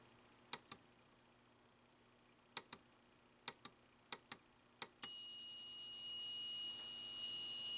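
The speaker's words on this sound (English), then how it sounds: "if you want to hear the buzzer, that's the buzzer" Several pairs of faint ticks, then a steady high buzz from a DIY six-digit electronic alarm clock kit switches on and holds continuously, thin and piercing, in a quiet room.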